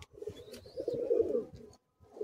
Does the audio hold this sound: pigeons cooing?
yes